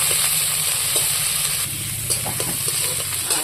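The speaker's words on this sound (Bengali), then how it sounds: "পেঁয়াজটা বেশ সুন্দর করে ভেজে নেব" Raw onion fries in a pan for Bengali masoor dal with jackfruit seeds, a dense crackling sizzle with stirring scrapes and small clicks of the utensil, close and steady, no voices.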